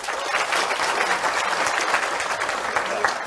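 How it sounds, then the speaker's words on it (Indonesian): Audience applause fills a hall at a talk event with the Kiai Kanjeng ensemble, a dense, steady clapping wash lasting a few seconds without pause. "Juga tepuk tangan untuk Kiai Kanjeng."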